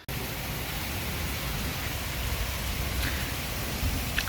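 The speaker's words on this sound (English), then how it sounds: "we've got a lovely storm at the moment" A rain storm comes down steadily outside in a dense, even hiss of heavy rainfall that stays constant and fairly loud, with no voices and no distinct thunder.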